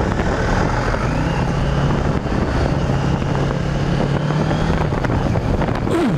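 Steady, loud ride on a 2015 650 cc motorcycle, with continuous engine drone and heavy wind rush across the microphone throughout, no voices.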